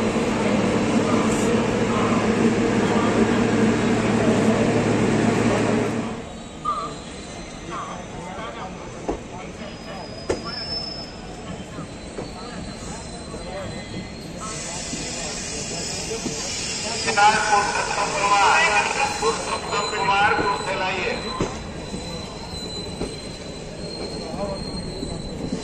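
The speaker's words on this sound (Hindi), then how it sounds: "दूसरे साइड खड़ी है हटिया इस्लामपुर नई दिल्ली सुपरफास्ट एक्सप्रेस" Hatia Islampur New Delhi Superfast Express standing on the adjacent track at a station: loud steady rumble and hiss of the train for the first six seconds, then quieter ambient station noise with occasional clanks and a brief squeal.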